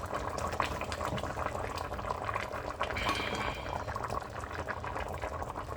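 A pot of fumbwa stew simmers on the stove, giving a steady, soft bubbling and hissing that stays even and close for several seconds, with no voices.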